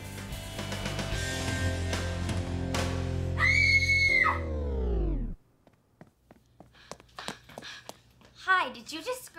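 A girl lets out a long, loud scream that cuts off abruptly, followed by quieter scattered sounds and brief talk.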